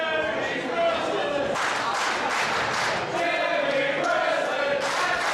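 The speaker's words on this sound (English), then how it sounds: "the crowd has not stopped chanting for Jimmy Preston" Wrestling crowd at the Northeast Wrestling Arena chanting for Jimmy Preston during a match, a loud, sustained roar of voices with rhythmic swells of chanting filling the whole stretch.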